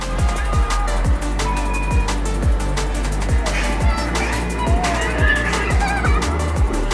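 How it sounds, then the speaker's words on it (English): Busy street traffic in the Sirkeci area of Istanbul, a loud continuous roar of engines and passing vehicles with repeated low rhythmic thumps and scattered squeals, close and dense throughout. "It's a dizzying convergence of people, traffic, business and tourism."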